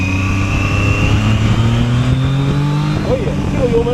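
A ZONTES 703F motorcycle engine pulls under throttle with a steady, rising tone up close, with some rider voice or wind noise over it and a brief wobbling sound near the end.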